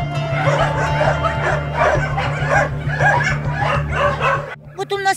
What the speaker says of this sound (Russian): Вот у нас есть такие собаки